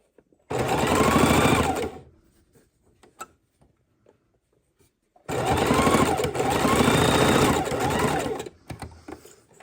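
A sewing machine stitches a Christmas mitten in two close, steady bursts of rapid stitching, a short one and a longer one, separated by a quiet pause with faint handling sounds.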